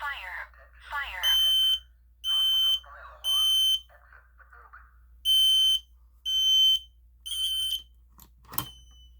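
A fire alarm system under test sounds in loud, evenly spaced tonal bursts with short gaps, a voice speaking briefly at the start and a sharp click near the end.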